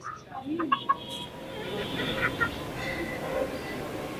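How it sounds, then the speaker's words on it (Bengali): A Pakistani rooster clucks with a few short, sharp calls among other fowl and pigeon-like coos at a farm beside a restaurant, over steady background murmur and voices. "পাকিস্তানি কক"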